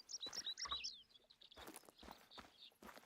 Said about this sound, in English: I hear tons of birds.